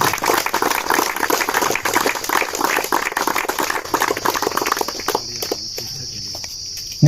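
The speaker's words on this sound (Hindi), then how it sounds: "मैं एक बार रिक्वेस्ट करूंगा कि आप सभी अपने लिए एक जोरदार तालियों से अपना अवसर" Players and spectators at a cricket tournament closing ceremony clap together in a dense, fairly close burst of applause that breaks off after about five seconds, leaving a thin high insect-like whine.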